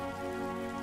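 Rain falls steadily in a Hindi cartoon, a soft continuous patter that stays even and unbroken beneath a low sustained musical tone, with no voices.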